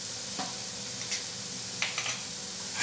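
Green vegetable pulao with masala being stirred in a hot pan, a steady soft sizzle with a few scraping stirs breaking through, no voices.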